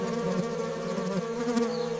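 Wild bees foraging among flowering plants in a forest produce a close, continuous droning buzz with a wavering pitch that holds steady throughout.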